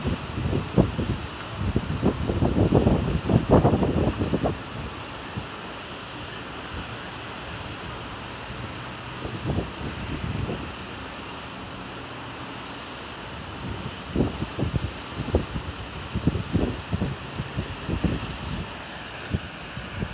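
A flooded river rushes through Krasnoyarsk during a heavy rainstorm, a steady broad roar with repeated gusty bursts of wind buffeting the microphone.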